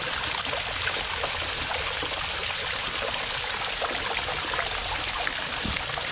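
Creek water rushes and splashes steadily and close up in a rocky creek bed, a dense, continuous watery hiss with no pauses and no voices.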